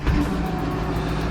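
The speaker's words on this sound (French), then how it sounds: "On va retirer la voiture du garage" A car engine runs close by as the car pulls out of a garage, giving a short, steady low hum with a slight rev at the start.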